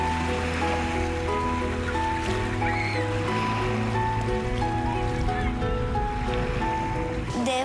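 Sea waves break on the shore in a continuous rushing surf with steady wind noise, while a soft musical tone holds underneath throughout.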